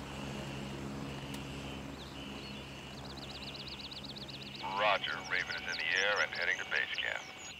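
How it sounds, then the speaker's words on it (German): A helicopter in the military shooter Gray Zone Warfare gives off a steady, low mechanical drone throughout, with game effects and a voice talking over it in the second half. "dann ruft man Hubschrauber"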